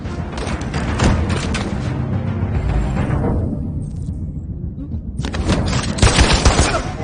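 Dense automatic gunfire in the video game Detroit: Become Human, a loud, continuous fusillade of rapid shots that briefly thins in the middle and then surges back with heavy booms.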